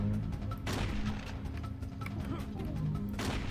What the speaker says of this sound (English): Somebody's shooting lasers over there.